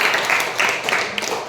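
A school audience claps for ZPHS Patnur in a short burst of dense applause, close and fairly loud, with voices mixed in.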